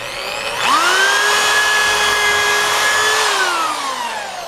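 A power drill bores a hole through a 36-inch wooden board. Its loud, steady whine rises sharply as the trigger is squeezed, holds for a few seconds and then winds down, with nothing else heard.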